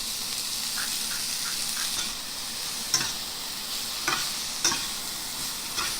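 Broccoli and mixed vegetables for a pasta salad tossed in a hot pan, a continuous sizzle broken by several sharp scraping jolts as the vegetables are flipped, close and fairly loud with no talking.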